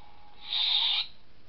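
A single short electronic tone from a WonderForce Hitoren V3 lightsaber switching sound fonts, bright and steady, rises out of a quiet hiss and cuts off after about half a second.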